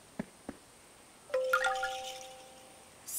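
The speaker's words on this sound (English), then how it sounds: "Is Zebby's doorbell broken?" A soft, quiet doorbell chime rings out once and lingers briefly, preceded by a couple of light taps, in an otherwise hushed room.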